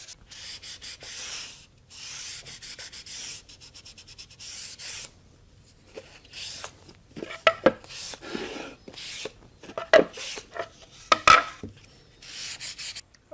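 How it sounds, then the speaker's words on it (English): Hand-sanding walnut wood pieces: steady, rhythmic scratchy strokes come in runs separated by short pauses, close and fairly loud, with a few sharper knocks near the end. "So I'll go ahead and sand the rest of the walnut pieces"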